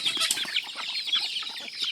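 Chickens and roosters clucking and calling nearby in a dense, continuous chorus of short overlapping calls, with occasional wing flapping among the flock.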